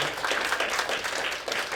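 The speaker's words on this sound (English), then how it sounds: "give her a round of applause" An audience claps in a short, even burst of applause for a brave volunteer at a talk, moderately loud and without any voices over it.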